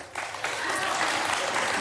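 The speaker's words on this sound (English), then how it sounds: "I'd hold that applause." Studio audience applause breaks out during a comedy news segment and holds steady, a dense, loud wash of many hands clapping together.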